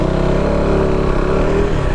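A sport motorcycle engine, an Aprilia Tuono 457 or KTM RC390, drones loud and steady, holding a continuous revving tone throughout.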